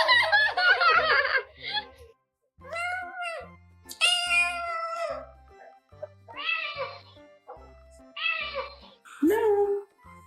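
A cat meows repeatedly in a talkative, almost speech-like way, with several distinct drawn-out calls separated by short pauses, close and clear, while a person speaks between the meows.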